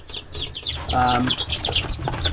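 Three newly hatched chicks in an incubator peep in quick, high, close chirps throughout, while a person talks over them.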